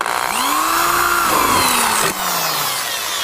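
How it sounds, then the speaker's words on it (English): Power drill boring a hole for a rivet nut during a Rocket Bunny body kit install on an FRS/BRZ/GT86, a steady loud whine that drops in pitch as it bites, with a brief break near the end. "the first thing that I do is I just drill my hole"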